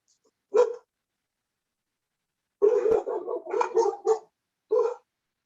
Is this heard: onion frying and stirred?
no